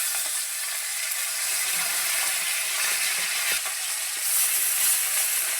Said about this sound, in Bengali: এবার আমি কিন্তু একে একে উল্টিয়ে দেবো মাছগুলোকে